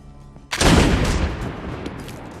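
A gunshot from a James Bond film scene: a sudden loud blast about halfway through, followed by a long, rolling, echoing decay.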